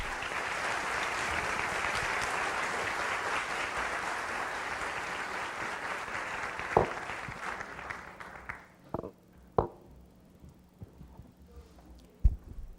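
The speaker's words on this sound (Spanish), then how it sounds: "les pedimos un caluroso aplauso para" An audience gives a warm welcome at a talk on global migration trends, steady massed clapping for several seconds that thins into a few scattered claps and knocks as it dies away.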